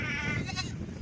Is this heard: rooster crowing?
no